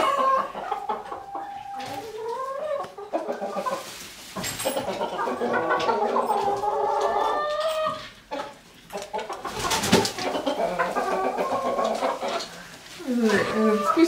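Chickens and roosters cluck and squawk nearby in a busy, irregular chatter, with a person talking over the birds.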